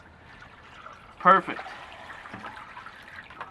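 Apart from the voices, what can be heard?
water pouring from a bucket into an aquarium sump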